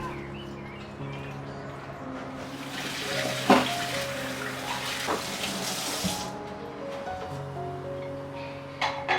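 Tap water runs steadily into a sink as bone-in mutton is washed with salt, a continuous splashing stream with a louder burst midway, birds chirping faintly in the background.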